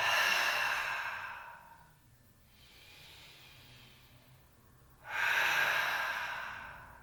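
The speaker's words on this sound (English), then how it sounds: "Breathing out of the mouth." Deep breaths exhaled through the mouth during a relaxing yoga session, two long airy outbreaths with a quiet pause between, close and clear.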